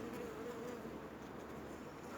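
A steady honeybee buzz drones continuously, fairly quiet and close, like bees humming around a hive.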